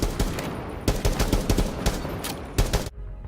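FBI SWAT weapon in Rainbow Six Siege fires on full auto in loud, close bursts of rapid shots, stopping abruptly with a brief tail at the end.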